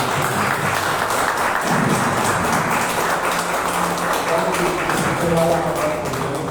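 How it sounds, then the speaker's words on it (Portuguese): A church congregation at a Sunday service claps in loud, steady, dense applause that fills the whole room and continues without pause, with voices mixed in beneath it. "Deus nos põe de pé naquela linda salva de palmas."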